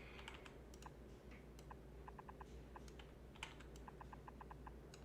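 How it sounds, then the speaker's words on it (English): A computer keyboard is typed on in quick, uneven bursts of light clicks during a live stream, close and fairly quiet over a faint steady hum. "I'm like doing some keyboard wizardry here."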